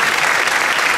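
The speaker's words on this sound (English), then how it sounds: "give another round of applause, soloists." Concert audience applauds student soloists at a spring music concert, a dense, continuous wash of clapping that stays loud and even from start to finish.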